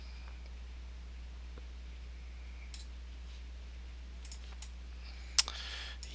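Sparse computer mouse clicks while editing FSX ground polygon scenery, faint and isolated over a low steady hum, with one noticeably louder click near the end.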